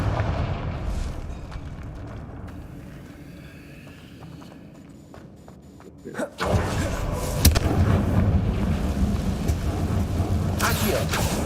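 A Confringo blasting curse in Hogwarts Legacy bursts into one loud, booming explosion partway through, cutting sharply above a low, rumbling game ambience that then stays louder and busier afterward.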